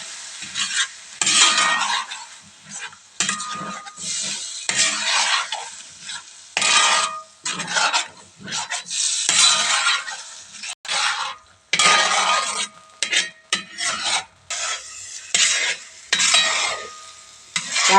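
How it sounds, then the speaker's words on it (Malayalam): Banana and beaten rice sautéed in jaggery for payasam, loud repeated stirring and scraping against the pan in irregular bursts over a faint sizzle, with short pauses between strokes, no talking. "ബാക്കി വെച്ചിരിക്കുന്ന ശർക്കരക്കകത്തിട്ട് നല്ലതുപോലെ വഴറ്റി എടുത്തിരിക്കുകയാണ്"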